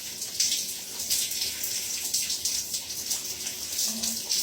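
Running water from a shower or tap streams steadily as conditioner is rinsed out of hair, a close, continuous hiss and splash with slight fluctuations and no talking.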